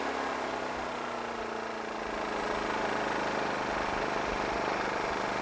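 Champion 2500W dual fuel inverter generator running steadily in eco mode, a continuous close engine drone with a low hum that holds an even, unbroken level throughout.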